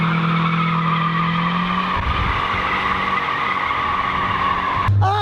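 A Mazda Miata's tires squeal and skid as it is driven around in tight circles, a steady screeching whine over engine noise, with a sharper rising squeal near the end.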